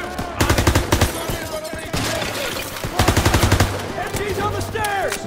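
Machine gun fire in the Call of Duty WWII campaign, loud rapid bursts of automatic shots repeating in quick succession amid battle noise.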